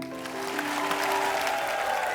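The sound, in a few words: studio audience applause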